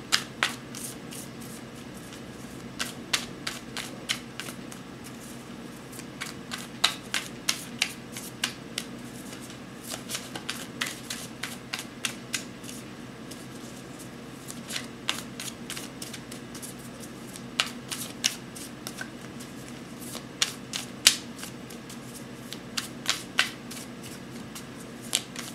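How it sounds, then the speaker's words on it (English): A deck of tarot cards being shuffled by hand, soft riffling bursts and taps recurring irregularly over about twenty-five seconds, close and quiet, with no talk. "So I'm just going to shuffle and then lay the spread."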